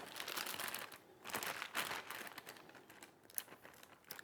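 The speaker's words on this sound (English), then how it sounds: "It's really convenient with the Ziploc bags. Just get the air out and close it up" Close, quiet crinkling and rustling of a Ziploc bag of marinated pork being handled and sealed, with soft irregular clicks and crunches.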